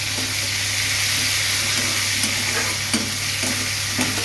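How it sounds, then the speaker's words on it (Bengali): Garlic paste and onion paste hit a hot pan of frying potatoes and tomato, a continuous close sizzle punctuated by several sharp spatula scrapes and knocks as the mixture is stirred. "রসুন বাটাটা দিয়ে দিচ্ছি"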